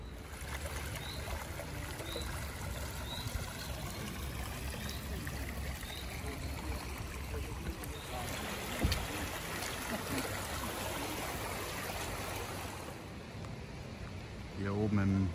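Heavy rain falls steadily while water streams down across a parking lot during a July 2021 flood at Königssee, Berchtesgaden, a constant loud rushing wash with a brief thump midway, and a person speaks over it.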